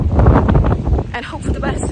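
Strong wind gusting across the microphone at a seaside marina pontoon by the breakwater, a loud continuous roar with buffeting rumble, while a person talks over it.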